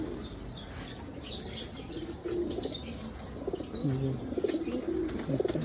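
Pigeons of a local breed coo softly in low, rolling murmurs, with scattered chirps and rustling of wings in the background.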